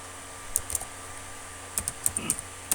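Code being typed on a computer keyboard, with scattered bursts of crisp key clicks, a few isolated strokes, then a quicker cluster of taps close to the mic over a quiet background hum.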